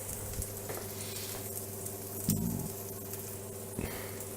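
Onion frying in a pan on raised heat, a faint continuous sizzle with a low hum beneath and a few soft stirring scrapes, quiet and with no talk.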